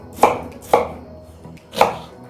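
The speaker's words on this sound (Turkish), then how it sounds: "Ben de domatesleri doğruyorum oturduğum yerde." Three sharp knife chops through tomatoes on a cutting board, spaced unevenly with short pauses between them, close and fairly loud.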